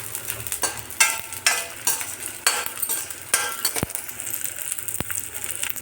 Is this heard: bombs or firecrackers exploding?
no